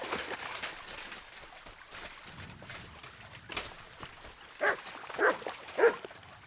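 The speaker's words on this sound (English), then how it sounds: "Good dog, Max." A dog gives a few short, faint barks and whimpers toward the end, distant in a quiet outdoor setting.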